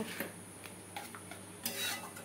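Spice paste with tomato and dry chilli paste stirred in a pan for chicken curry, soft scraping and clinks of a spoon against the pan under a steady low sizzle, faint and close, no voices.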